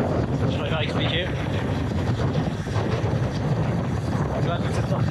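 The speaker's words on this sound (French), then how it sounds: "il y a du vent donc je sais pas si vous allez m'entendre" Outdoor wind buffeting a microphone, a constant loud low rumble with gusty fluctuations, while someone talks underneath it at a cycling race course reconnaissance.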